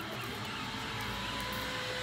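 A steady, continuous mechanical whir like a drill runs throughout at moderate distance, fairly even in level with no pauses.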